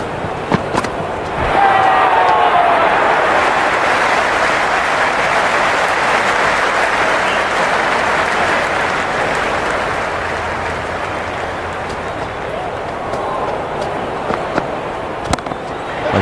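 A large cricket crowd in the video game Cricket 26 applauds and cheers loudly, swelling in one sustained roar that slowly fades over many seconds, with scattered whistles and shouts.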